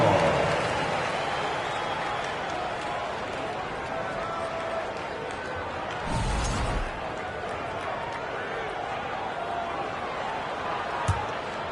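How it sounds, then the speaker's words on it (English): Arena crowd applauding the Lakers big band at a basketball game, a broad steady wash of clapping and cheering that holds for the whole stretch, with a brief louder swell partway through and a sharp thump near the end. "Give your Lakers big band team a big round of applause."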